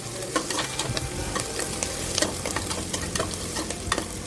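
Soya chunks, or meal maker, fry in a pan with green chillies for biryani, giving a steady close sizzle with repeated scraping and stirring knocks and no talk.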